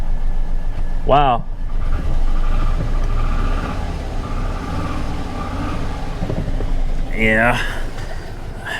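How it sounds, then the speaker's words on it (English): Rough, uneven idle from the engine of a damaged truck with about 500,000 miles, a low rumbling drone running throughout at close range while people talk over it. "the motor does not sound pleased"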